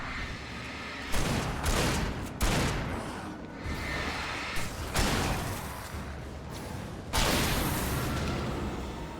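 Repeated blasts of shotgun fire in the video game Alan Wake, heavy booming shots at irregular intervals with a dense rumbling tail, loud and close, no talking.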